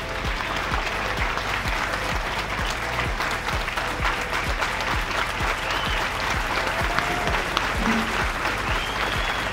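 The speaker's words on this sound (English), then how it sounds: "give a huge round of applause for all he has done and continues to do for our great Catholic Central" A crowd claps steadily at the grand opening dedication of the George and Mary Turek Hall of Science at Catholic Central, welcoming a speaker to the stage. Dense, even applause fills the whole clip without speech.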